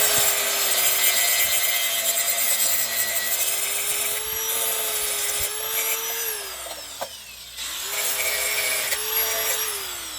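A power tool grinds paint off a metal shop stool ahead of welding, giving a loud, continuous whirring rasp whose pitch dips and rises as the tool is pressed against the metal.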